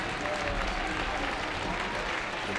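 Applause at a high school basketball doubleheader for the band seniors and their families, a sustained clapping crowd in a gym, steady and broad for the whole stretch.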